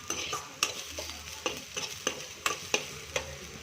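Onion, garlic and curry leaves fry in ghee in a pan with a steady, fairly quiet sizzle, punctuated by about eight sharp stirring scrapes and clinks at a regular pace, with no voices.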